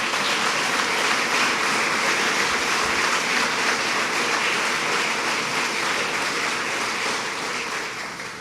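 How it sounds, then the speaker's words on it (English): Sustained, loud crowd applause at a public tourism announcement by a state governor, a continuous wash of many hands that holds steady and then eases slightly toward the end. "And let's give him a round of applause."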